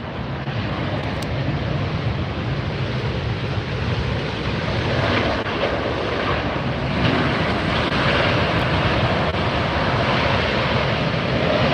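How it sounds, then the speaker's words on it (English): An Airbus A380 superjumbo lands at Los Angeles Airport, a loud, steady broadband roar of jet engines and rushing air that holds unbroken for several seconds, with no voices. "Watch, the center two gear will land first. They will touch down first."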